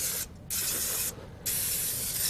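Cooking spray hisses from an aerosol can into a 9 by 13 baking pan for cereal bars, in three close bursts broken by two brief pauses.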